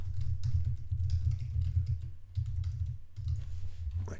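Fingers tap out text on a computer keyboard in quick bursts of clicking keystrokes, with a few short pauses between runs, close and clear with no talking.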